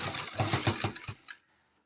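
Sewing machine stitching an invisible zipper onto fabric, a short burst of rapid rhythmic needle strokes lasting about a second, then it stops and quiet follows.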